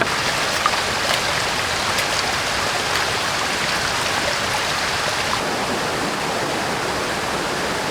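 Heavy jungle rain pours down in a dense, steady hiss of drops on foliage, loud and continuous throughout with no voices.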